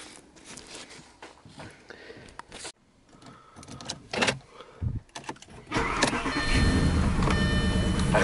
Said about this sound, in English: I'll start the engine and let it warm up a little bit